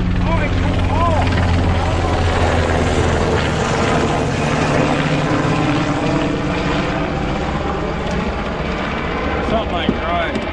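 A helicopter passes over the Ohio River near an old dam, giving a steady loud rotor and engine drone throughout, while people fishing from the bank talk over it.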